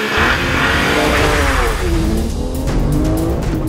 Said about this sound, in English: That's 110 mile an hour around that corner.